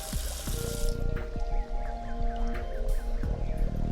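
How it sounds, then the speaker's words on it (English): Water from a faucet runs and drips into a sink in an Adventure Time video game, with an irregular patter of splashes and drips over a thin, steady trickle. No one speaks. "You're making some great soapy water, but it's just going down a drain."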